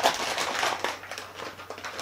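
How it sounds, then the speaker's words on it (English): An anti-static bag holding a Gigabyte GTX 1080 graphics card crinkles as it is opened, with close, rustling plastic crackles in uneven bursts. "Sorry about the crinkly noise, the anti-static bag, of course."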